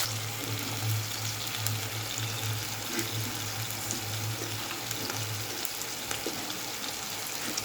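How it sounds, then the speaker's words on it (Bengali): Ginger-garlic paste fries in a pan alongside potatoes as a steady, moderate sizzle with a faint low hum underneath and occasional soft clicks from stirring, with no voices. "এবারে ওই যে আদা রসুন বাটাটা দেবো, এই দিলাম। এটা দিয়ে কষাবো আস্তে আস্তে।"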